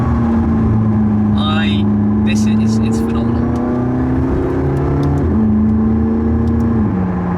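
A McLaren 675LT revs and drives with a loud, rising engine note that climbs through gear changes and drops between shifts, heard from inside the car while a person briefly talks over it.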